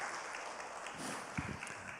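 Church congregation at a dawn revival service applauds, a soft, diffuse patter of clapping heard from a distance, low and steady for two seconds.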